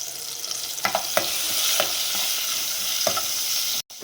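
Green chillies, crushed ginger, roasted cumin, pepper and curry leaves frying in a Kannada-style tempering for avarekalu pongal, with a steady close sizzle broken by a few sharp stirring scrapes and pops, no voices.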